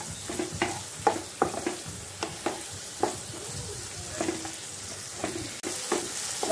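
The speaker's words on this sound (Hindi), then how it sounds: "वो भी अच्छी तरह से मसाला के साथ फ्राई कर लूँगी" Soaked black-eyed beans frying with masala for lauki chawli sabzi, a low sizzle punctuated by regular spatula knocks and scrapes against the pan, spaced roughly every half second.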